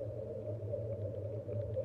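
Low rumbling drone from a data sonification of soil water potential, a steady, faint, hum-like tone with a slightly wavering texture and no other sounds.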